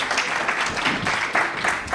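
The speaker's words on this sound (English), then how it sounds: "join me to welcome, with your rounds of applause" Conference audience at an Africa summit gives a round of applause welcoming a panel chair, a moderate, even patter of many hands clapping in a hall, fairly soft and steady throughout.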